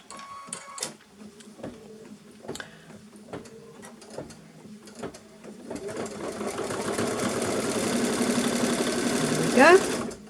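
An embroidery sewing machine starts with scattered clicks and knocks, then runs into steady rapid stitching that builds to a loud, dense whir, close up; a voice is heard talking over the start.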